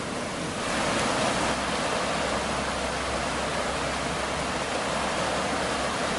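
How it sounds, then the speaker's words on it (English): Floodwater in Ayutthaya, Thailand drains steadily into a lowered river, a continuous broad rushing wash that holds a loud, even level throughout. "So all that water I'm showing you is starting to drain."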